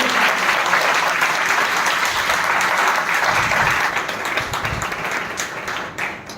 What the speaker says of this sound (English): So a big round of applause for all those who contributed.